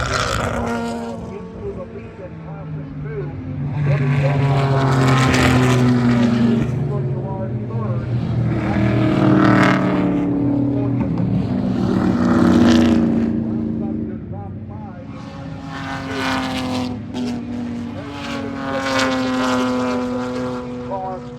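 Vintage race cars doing parade laps around a race track at Canadian Tire Motorsports Park swell and fade as they pass, several engine drones rising and falling in waves, with a voice talking over them.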